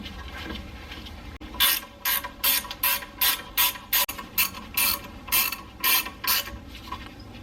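A ratchet tightens the rear brake caliper slide pin bolts on a Lexus GX460 or 5th-gen 4Runner: a close, steady run of about a dozen rapid clicking strokes, each short burst separated by brief pauses.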